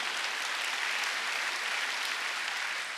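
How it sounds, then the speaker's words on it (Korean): A church congregation at a Sunday worship service breaks into steady, dense applause that holds at an even level for a few seconds, with no voices over it. "이걸 믿으면 박수 쳐라."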